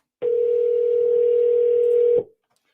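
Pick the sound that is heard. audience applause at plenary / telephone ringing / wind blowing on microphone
telephone ringing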